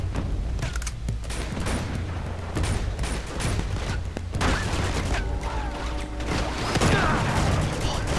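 Sniper fire and other gunfire sound in an online match of Uncharted 2: Among Thieves, with dense, repeated cracks and mechanical clatter over a busy game background, rising toward the end.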